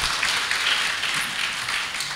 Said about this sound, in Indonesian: Kita beri tepuk tangan kepada Ustaz.